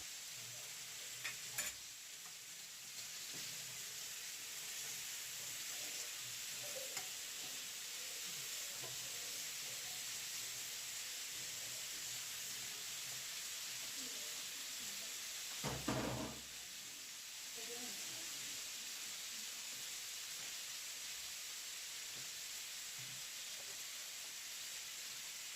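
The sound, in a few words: boal fish frying with ginger, garlic, onion, tomato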